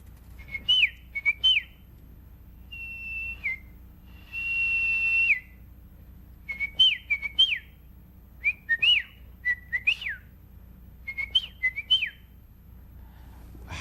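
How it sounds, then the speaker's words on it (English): Bird-call whistles: short, bright chirping trills and a couple of longer held whistle notes, repeated in bursts against a quiet, faintly humming background. "Remember your bird calls? You have some bird whistles."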